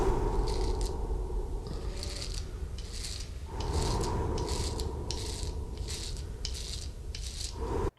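A OneBlade razor shaving a face gives a steady close buzzing hum, broken by repeated short scratchy strokes in an uneven rhythm, with no talking.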